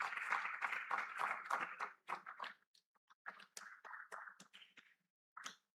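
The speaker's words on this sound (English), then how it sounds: "Please, a round of applause for him as he makes his way to the stage." A summit audience claps as a speaker walks to the stage, a quick ragged burst that thins into scattered separate claps with short gaps before one last small flurry.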